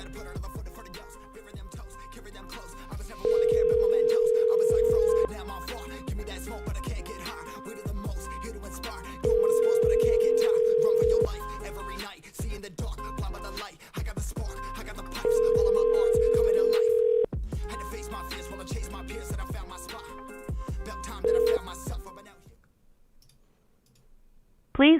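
A telephone dial tone and ringback while calling a landline: long steady tones repeat in a regular pattern of four rings over music playing underneath, then the line cuts to quiet.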